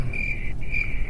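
Steady, loud cricket chirping in a continuous trill, with one short break partway through and no voices over it.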